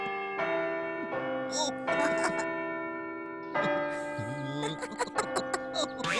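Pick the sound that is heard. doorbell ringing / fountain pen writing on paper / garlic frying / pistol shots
doorbell ringing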